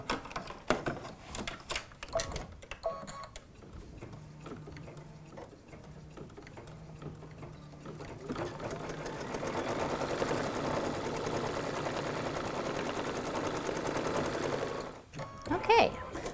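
An embroidery machine stitches a design in a hoop, producing a steady, rapid mechanical whir and ticking that fills most of the clip, with sporadic clunks and scrapes before it settles into continuous running.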